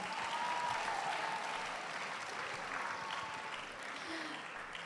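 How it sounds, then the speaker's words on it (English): Applause at the closing ceremony of the 2026 Vietnam Asian Schools Debating Championship: a large audience claps steadily and densely in a hall, a loud sustained wash of hand claps that eases slightly toward the end. "Again, a round of applause for everyone."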